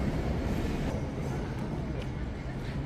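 A train sits at Vang Vieng railway station in Laos, giving off a loud, steady, low rumble that fills the whole span, with voices faintly mixed in.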